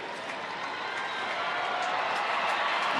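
A baseball stadium crowd of more than 36,000 claps together in support of Rangers pitcher Robbie Ross during a two-out 8th-inning at-bat, a dense, distant, steadily building roar of clapping with crowd noise and no break.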